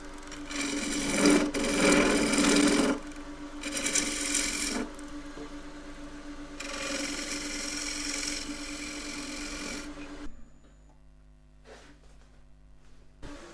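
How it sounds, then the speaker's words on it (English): Wood lathe turning a stool part with a skew chisel in a peeling cut, giving close rasping, scraping bursts over the spinning workpiece, then the lathe running quieter on its own. "with a skew, just using it as a peeling cut."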